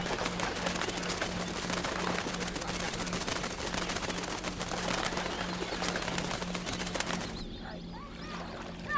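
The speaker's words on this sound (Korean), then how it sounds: "이곳엔 다양한 조류들이 습지를 가득 메웁니다" A dense chorus of many birds, including cooing pigeon-like calls, fills a Tonle Sap wetland. The calls sound as a constant loud wash before thinning out near the end.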